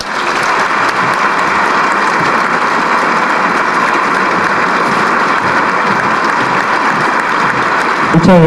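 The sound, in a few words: audience applause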